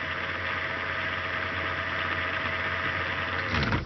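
A Bedini SSG simplified school-girl motor with its coil timing centred, running steadily with a continuous buzzing, whirring hum at close range that cuts off abruptly at the end.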